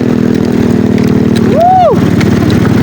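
A motorcycle engine on an adventure trail ride throbs steadily and loudly up close, with a brief rising-and-falling whine partway through.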